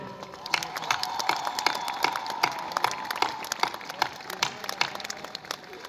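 Audience applause at a speech in Warsaw, a dense, steady patter of many hands clapping close by, with scattered louder claps and some crowd noise running through the whole stretch.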